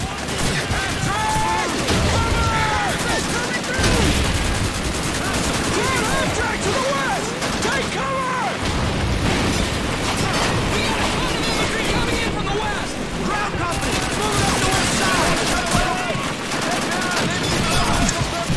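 Dense, continuous gunfire from the World War II shooter Call of Duty 2 on Xbox Series X, with rapid rifle and machine-gun bursts and explosions layered loudly over one another, while a player talks over the battle.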